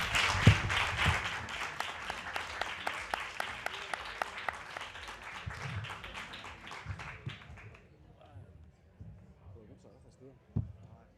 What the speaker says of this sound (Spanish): Muchas gracias, un aplauso para Javier Sánchez Zapatero